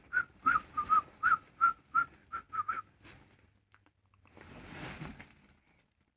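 A storybook rabbit whistles a bouncy tune in a quick run of about a dozen short, clear notes over roughly three seconds, loud and close, followed by a soft breathy rustle.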